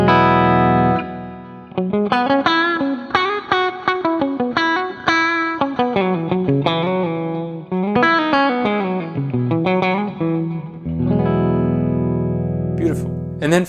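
Electric guitar played through its middle and bridge mini humbucker pickups together gives a bright, twangy tone: a quick melodic run of single notes, then ringing sustained chords near the end, loud and close.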